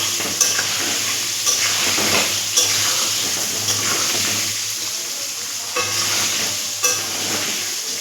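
Chicken curry seasoned with turmeric sizzles and fries steadily in a pan on the stove. Close scraping stir strokes and light utensil taps recur every second or so over the constant hiss.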